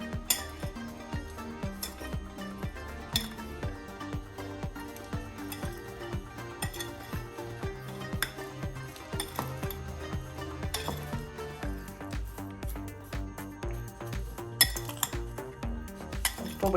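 A spoon mixes grated coconut and mango pickle with salt in a bowl, giving steady close clinks and scrapes of utensil against dish, with occasional sharper taps throughout.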